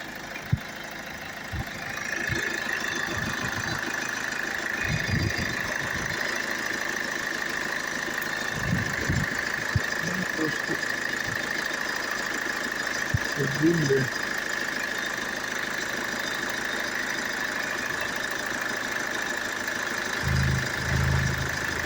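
A 2011 Kia Sorento engine idles steadily in the background with a constant hum, while a person talks intermittently nearby and occasional knocks and handling noises come through.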